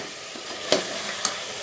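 Goat head curry fries in oil over a high flame and is stirred, giving a soft, steady sizzle with two sharp scrapes of the spoon against the pan.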